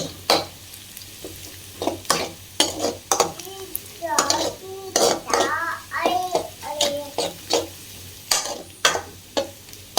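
Onions fry in oil with whole spices in a pan, with intermittent stirring clatters and utensil scrapes over a soft sizzle, and a voice chattering briefly in the background.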